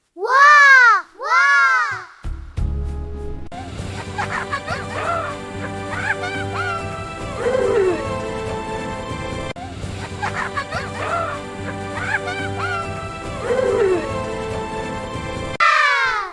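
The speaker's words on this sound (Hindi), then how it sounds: "ये रोने की आवाज है।" Animated crying rings through a cartoon jungle, with rising and falling wails repeating near and loud, backed by a steady musical bed and brief pauses between bursts.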